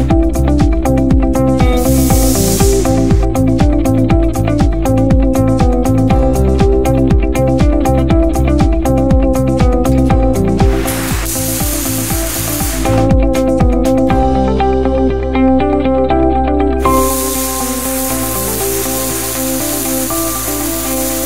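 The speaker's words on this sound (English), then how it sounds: "Bottom cups and lock pins are tacked in their position with manual MIG welding machine." Manual MIG welding tacks bottom cups and lock pins onto cuplock scaffold parts in a fixture, giving loud crackling, buzzing bursts with brief pauses and hissy breaks between welds.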